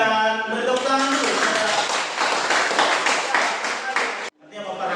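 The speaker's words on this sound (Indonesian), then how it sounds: "beri tepuk tangan dulu" Students in a classroom clap their hands together in a dense, lively burst of applause over a sustained tonal hum, ending with an abrupt cutoff.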